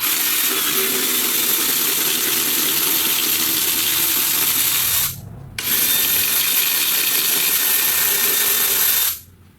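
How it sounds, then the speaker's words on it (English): Loose bolts being removed from a Ford DPS6 transmission with a ratchet: a fast, continuous mechanical whirring in two long bursts with a brief pause between, loud and close. "I'm going to the other side, pop the bolts out"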